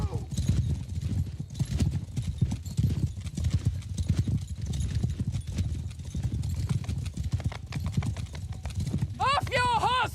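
Horses' hooves clip-clop in a dense, continuous clatter during a Bretonnia battle in the Warhammer video game, loud and close, joined near the end by a sharp horse whinny.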